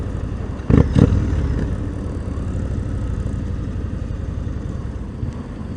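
A 2019 Indian Springfield Dark Horse motorcycle engine cruises in sixth gear with a steady, low rumble that continues throughout, with a brief louder burst near the start.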